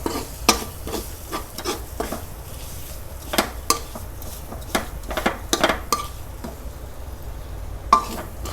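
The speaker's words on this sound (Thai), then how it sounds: "ผัดจนว่ามันหอม" Curry paste being stir-fried in a pan for a Central Thai chicken curry with pickled bamboo shoots, giving repeated sharp utensil scrapes and clinks against the pan over a low steady sizzle, close and fairly loud, with no talking.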